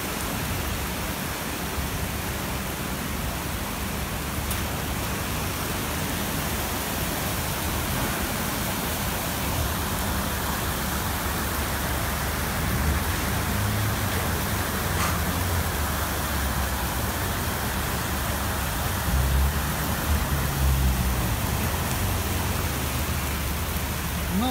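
Heavy rain pouring during a flood at Arkadia beach in Odesa, a broad steady hissing wash with low rumbling underneath, continuous and fairly loud for the whole stretch, no voices.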